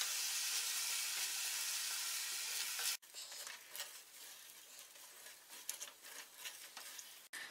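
Rice roasts in hot ghee in a kadhai, a loud dense sizzle that drops off abruptly and gives way to quieter crackling and light stirring scrapes, close to the pan.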